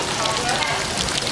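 Steady rain pours with dense hiss and patter in Thailand, loud and continuous with no clear gaps.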